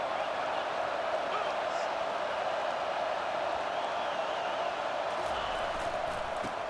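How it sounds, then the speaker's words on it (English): A stadium crowd in EA Sports College Football 25 cheers with a dense, continuous roar that stays loud and even, with no single voices standing out. "This crowd knows when to bring it."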